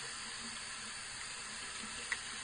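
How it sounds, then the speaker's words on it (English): Hot water running steadily from a tap onto a metal can held beneath the stream, a soft, even hiss of flowing water with no talk and one small tick near the end. "Now, as the hot water comes in"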